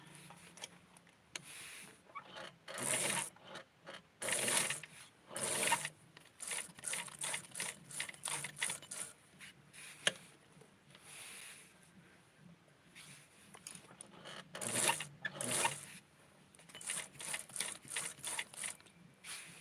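A sewing machine stitching small doll clothes runs in repeated short bursts with brief pauses, a close, steady mechanical rattle heard alone.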